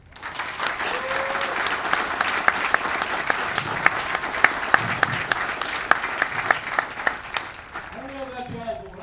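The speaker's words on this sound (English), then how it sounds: "please help me with a huge round of applause for the best military training instructors in the world" A large crowd applauds military training instructors at an Air Force basic training graduation, with loud, sustained clapping and sharp individual claps standing out, a few cheers mixed in, and voices emerging as it fades at the end.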